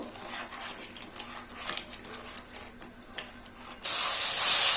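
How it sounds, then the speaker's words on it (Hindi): Ground tomato hits hot frying masala in a pan for fish curry, giving a sudden loud, steady sizzle after a quieter stretch of light scraping and clinking. "इसमें डाल दे पिसा हुआ टमाटर। अच्छे से भूंज ले मसाले को।"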